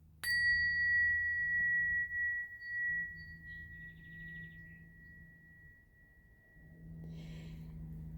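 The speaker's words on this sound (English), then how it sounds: "Also, I'm going to ring a bell." A single bell is struck once and rings out with a clear, sustained metallic tone that slowly fades, heard nearby in a quiet room with low background hum.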